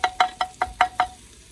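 Six evenly spaced knocks, loud and close, as a ladle strikes a kadhai while browned onions are added for kadhai gosht, then quiet.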